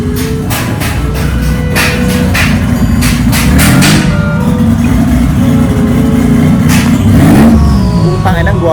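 A motorcycle engine revs up and down in a steady, close, loud drone with rising surges near the end, and a voice talks over it.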